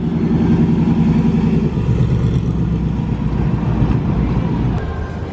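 A car's engine rumbles loudly and close by as it passes along Flagler Avenue near the beach, its low drone shifting pitch midway, with no talk over it.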